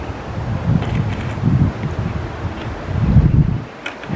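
Outdoors in a garden, wind rumbles against the microphone in uneven gusts, swelling and easing with a low, blustery roar and faint rustling, and no voices.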